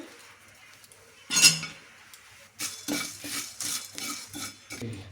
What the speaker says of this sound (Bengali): একটু শুকনো খোলায় আমি হালকা একটু নেড়ে চেড়ে নেব।